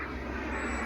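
An RC Boomerang Ranger jet powered by Swiwin 120 turbine engines whooshes at a distance in a faint, steady turbine roar that barely changes over a brief moment, with no voices.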